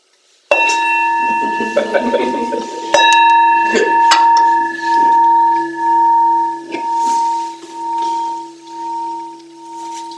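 A meditation bell at a Zen talk is struck several times, each ring leaving a clear sustained tone that pulses and slowly fades, near and resonant with no talk over it.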